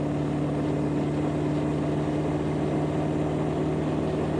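A Ford 7.3 Powerstroke diesel truck engine under load while hauling a dozer on the interstate, giving a steady, droning low rumble with a constant hum and no break.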